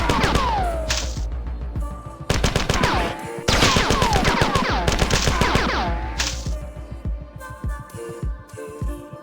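Loud automatic gunfire from a Bungie video game rips out in rapid bursts, with short pauses between volleys and a few scattered single shots near the end.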